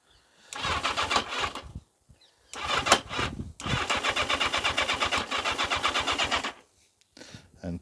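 Yamaha XJ650/XJ750 motorcycle with a fuel problem cranking on prime, repeated bursts of rapid rhythmic starter churning separated by short pauses, close and loud, the engine never catching.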